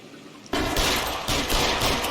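A rapid, loud burst of blind gunfire from the L.A. Noire video game cuts in abruptly after a quiet moment and continues as dense, sustained shooting with no voices over it.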